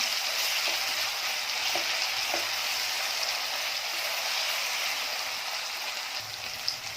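Onions sauté in oil for Pen-style black mutton, a steady, moderately loud frying hiss with a few faint stirring clicks, no talking.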